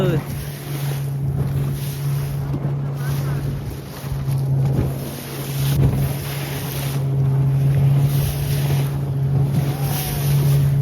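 Fishing boat out at sea, a steady low engine drone with wind buffeting the microphone and waves washing around the hull, loud and continuous.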